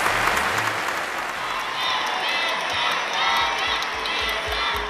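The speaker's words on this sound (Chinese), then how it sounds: "让我们掌声有请李斯丹妮一家" Studio audience on a family variety show bursting into sustained applause with scattered cheers and whoops, loud and dense throughout with some voices mixed in.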